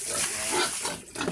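Piglets grunting at feeding time on a small farm, a short close burst of snuffling grunts over a steady background hiss.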